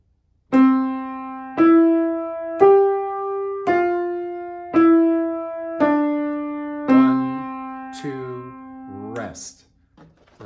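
A short, simple piano melody of about eight clear notes, rising then stepping down, from a beginner piece, played alone and ending with a brief soft rustle.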